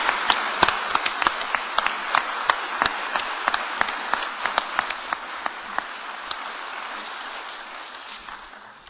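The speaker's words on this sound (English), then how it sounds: "But Brian, I want everybody to give him a big applaud" Audience applause at a concert in Eugene, a crowd clapping steadily for about nine seconds, with sharp individual claps standing out near and the rest blending into a broad patter that thins slightly toward the end.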